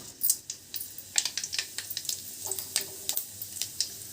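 Cumin, mustard and fenugreek seeds crackle in hot oil for a grated mango pachadi, giving sharp irregular pops and spits over a light steady sizzle, close by with no voices.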